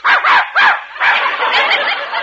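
Dog barking as a sound effect on a 1948 radio comedy show, several sharp, loud close barks in quick succession followed by a longer run of yapping, with no talk over it.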